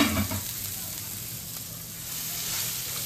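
Chopped carrot, ginger and green chili sizzle in a hot pan for rawa idli, a steady frying hiss that is loudest at the first moment and then settles into an even crackle.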